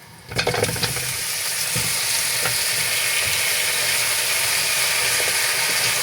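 Marinated oxtail drops into a hot frying pan with garlic and browns, bursting into a loud, steady sizzle that carries on alone after a few clatters at the start.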